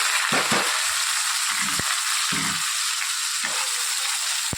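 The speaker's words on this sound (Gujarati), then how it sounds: "બસ એને થોડીક વાર એને ફ્રાય કરવા દઈએ" Par-boiled carrots and potatoes frying in hot oil give a loud, constant, close crackling sizzle, broken by a few brief low knocks and scrapes of stirring.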